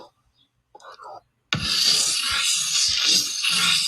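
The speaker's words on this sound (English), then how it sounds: "There's the chopped train swirl." After a brief faint breathy sound, a dense, loud hissing swirl of a chopped train sound kicks in suddenly and churns continuously, with choppy low thumps underneath.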